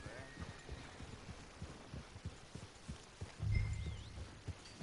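A horse walks with an even clip-clop of hooves in the video game Red Dead Redemption 2, the steps soft and steady, with a brief louder thud near the end.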